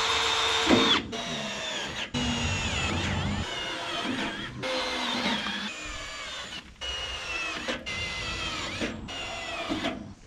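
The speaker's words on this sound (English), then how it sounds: "we got all of our pilot holes drilled" A cheap Harbor Freight drill bit bores pilot holes through steel angle iron for a trailer rock shield, the drill whining loudly in repeated bursts with brief pauses between holes.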